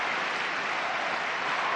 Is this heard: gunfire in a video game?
no